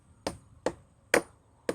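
Hammer blows on wood while a ladder is being built, four sharp, close strikes at uneven intervals, each dying away quickly.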